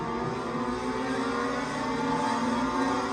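Race cars roaring past at an AMS Thursday Thunder Chargers race at Atlanta Motor Speedway, a dense continuous engine drone, loud and close, on the back straightaway into turn three.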